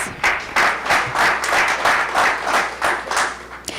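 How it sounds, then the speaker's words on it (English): Audience applause at the inauguration ceremony of an international media conference, a dense, sustained round of clapping from a large crowd in a hall, steady and fairly loud throughout with rhythmic swells and no talk over it. "Another round of applause for her,"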